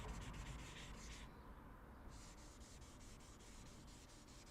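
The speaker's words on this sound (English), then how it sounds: "starting to sand over that nice little run" A sanding block rubs over a run in automotive clear coat, a soft steady scratchy friction in quick repeated strokes that pauses briefly partway through, faint and close with no voices.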